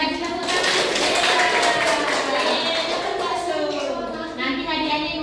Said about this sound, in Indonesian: Nah kita kasih tepuk tangan.